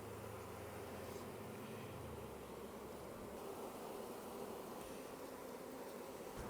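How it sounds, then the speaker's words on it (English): A steady, dense hum of honeybees around an opened hive in Hawaii, continuous and even, with a low mechanical drone fading out partway through and no voices. "And the bees look happy for sure."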